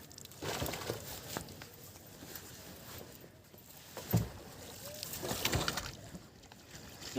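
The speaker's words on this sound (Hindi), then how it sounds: "बहुत मुश्किल था यहाँ पर चप्पू चलाना।" Boat rowed with an oar through floodwater during a rescue, faint rhythmic sloshing and splashing strokes with a few louder thuds, quiet and somewhat distant.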